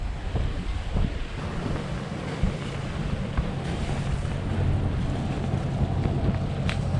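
Waves breaking close to a beach while sailing a boat off Eleuthera in the Bahamas, a steady wash of surf and water rush mixed with gusting wind buffeting the microphone, continuous and fairly loud with no voices.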